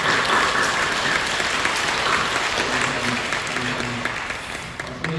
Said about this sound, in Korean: 우리 격려를 박수 한번 해주세요